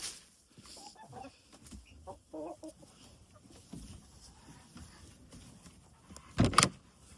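Chickens clucking while being fed, scattered soft clucks and short calls at close range, with rustling, a brief loud clatter near the end and a person speaking at times.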